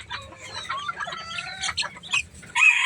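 Young turkey poult and chicks together, with rapid high peeping and clucking calls close by, a bright burst of chirping at the end, and a faint low rumble underneath; no talking.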